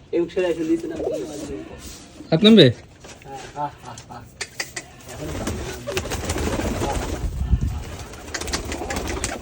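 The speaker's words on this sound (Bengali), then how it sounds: "তাই এই কবুতরটা আমরা আজকে দেখাবো" Pet pigeons give a brief throaty coo near the start amid loud nearby talking, followed by knocking and rustling noises through the rest.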